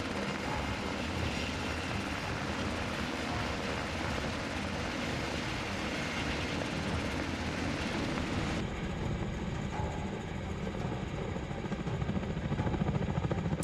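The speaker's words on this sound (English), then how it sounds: "The Black Hawk helicopter is a very iconic aircraft." A Black Hawk helicopter flies near a tree removal job, its steady broadband rotor and engine roar filling the whole stretch at an even, moderate level with no voices.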